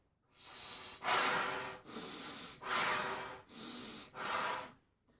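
Deep breaths are drawn in and blown out forcefully, five long, loud airy rushes in a slow, even rhythm, heard close up with no talking, as a trumpet player prepares for long-tone practice.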